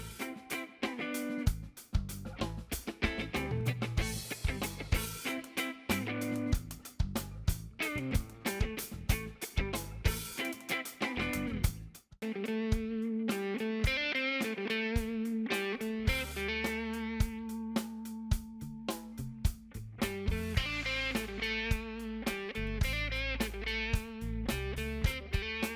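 Music: a steady, bright instrumental passage with rhythmic plucked or struck tones and sustained harmonies, a brief dropout midway, then a fuller section continuing at a moderate loudness.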